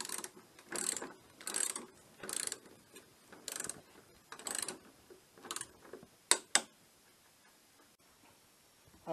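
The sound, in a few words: ratcheting torque wrench tightening parts to 50 newton metres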